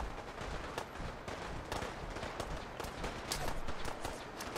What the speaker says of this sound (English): call in some artillery smoke grenades